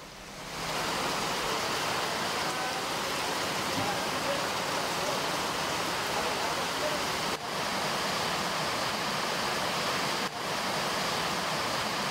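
Steady, dense hiss of heavy rain pouring without pause, loud and close, with two brief dips partway through.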